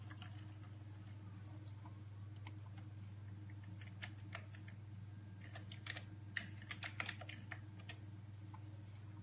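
Typing on a computer keyboard while entering a scene name in a drawing program: quiet, quick irregular key taps over a steady low electrical hum.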